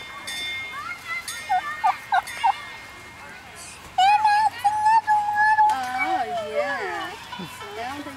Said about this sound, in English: That's a turkey, though.